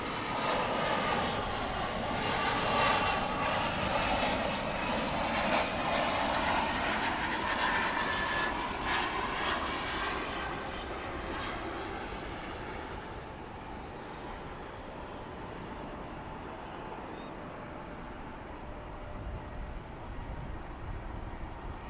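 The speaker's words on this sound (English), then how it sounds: "Reverse thrust." A large airliner roars loudly with reverse thrust as it lands at DFW Airport, a broad sustained rush that swells over the first ten seconds and then gradually fades to a lower rumble.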